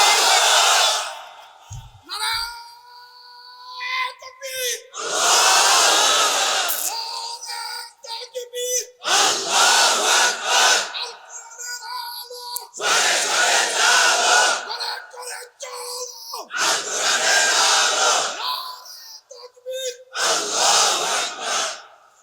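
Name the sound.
crowd shouting Allahu Akbar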